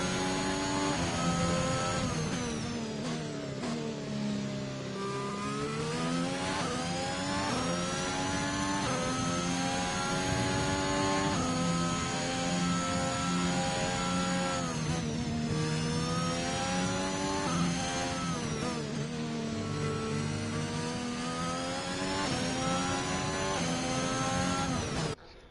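A racing video game McLaren's engine drones continuously for about twenty-five seconds, its pitch sweeping up and down through gear changes at steady, loud level, with no voices present.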